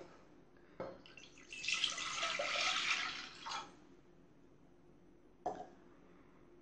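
Freshly squeezed orange juice pours and trickles through a strainer for a couple of seconds, framed by a few soft clunks of utensils in a quiet kitchen.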